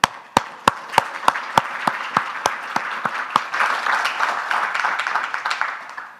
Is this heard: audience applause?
yes